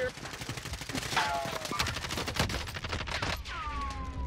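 Rapid automatic gunfire in the video game Warzone, a dense rattling stream of shots striking the player, with whooshing effects and talk over it.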